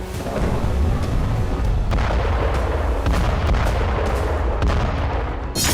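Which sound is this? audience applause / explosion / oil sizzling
explosion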